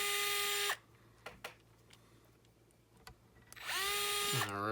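A power drill whines loudly as it drives guitar tuners in on a workbench, two bursts of high-pitched motor whir separated by a quieter stretch of small clicks and knocks.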